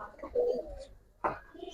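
Giribaz pigeons coo softly at close range, one low drawn-out coo followed by a shorter second call in a quiet loft.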